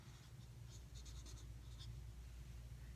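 Marker or chalk scratching on a board during a math lesson: a series of short, quiet strokes in a row against steady low room hum, with no talking.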